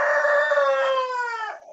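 A rooster crows once in a single long, loud, close call that holds strong and then trails off near the end, with no talk over it.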